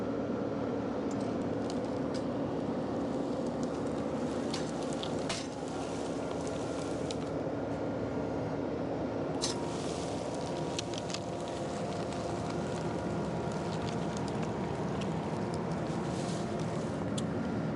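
Small Kubota tractor dragging a walnut log: a steady, dense engine drone with crackling, scraping texture throughout, loud and continuous with no pauses.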